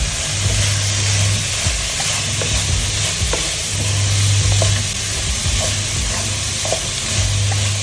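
Tender jackfruit thoran with grated coconut is stirred and tossed in a hot pan, a steady sizzle underneath repeated scraping and clattering strokes, close and fairly loud throughout.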